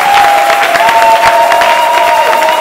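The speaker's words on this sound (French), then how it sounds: "Applaudis pour le Seigneur." A church congregation applauds the Lord, brisk clapping and cheering over a held sung or sustained tone, loud and close throughout.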